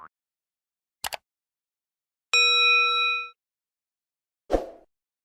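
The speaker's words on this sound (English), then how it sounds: "Notification bell so that you can stay up and be alerted" A notification bell sound effect rings out once as a bright, clean ding with a ringing tail, set between a few short clicks and a pop against silence.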